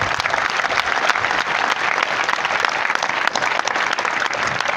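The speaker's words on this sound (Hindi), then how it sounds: "एक बार जोरदार तालियां जाए" Loud, dense applause from a crowd at a ceremony honouring a business partner, a continuous roar of many hands clapping close by with no break for about five seconds.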